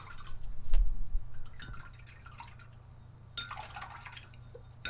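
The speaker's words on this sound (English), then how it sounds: "The sound of water." A small paintbrush is swished and scrubbed in a cup of water, giving soft irregular splashes and drips, a brief louder sloshing burst near the end, close and quiet with no talk.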